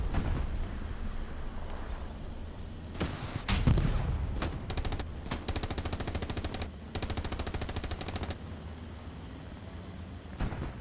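Heavy gunfire in a tank battle video game on the Purple Heart Lane map, with rapid machine-gun bursts and sharp shots crackling in long volleys over a low rumbling background.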